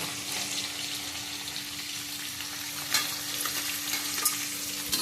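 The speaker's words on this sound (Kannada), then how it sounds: "ಫಸ್ಟ್ ಫ್ರೈ ಮಾಡಿ ತೆಗೆದಿಟ್ಕೊಳ್ವಾ" Paneer fries in a pan with a steady, close sizzle and crackle, and occasional louder spits and stirring scrapes. Nobody talks.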